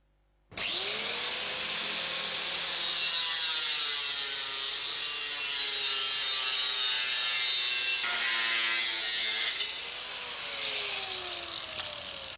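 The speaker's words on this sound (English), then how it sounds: "If the guides require shortening, cut length from the bottom of the guide." Continuous power-saw cutting through a roller garage door guide, loud and steady for about nine seconds, the pitch shifting as the blade works through the material, then easing off near the end.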